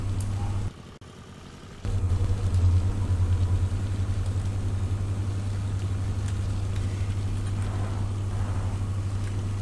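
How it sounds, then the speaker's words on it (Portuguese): A car engine in the video game Jalopy drones steadily as it accelerates. A close, continuous low rumble briefly drops out near the start, then resumes and holds a constant pitch with no talking. "E agora o carro tá acelerando demais aí."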